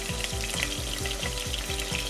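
Homemade sofrito sizzling and frying steadily in a hot pan, a dense continuous crackle with soft rhythmic stirring scrapes, close and fairly loud, no voices.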